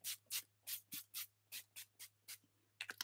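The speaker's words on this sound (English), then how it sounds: "the true determination if I'm going to like it is going to be the spray applicator" Rose petal toner comes out of a small spray applicator in about a dozen quick, crisp hissing pumps at a steady rhythm, with a fast double burst at the end. The sound is close and there is no talk over it.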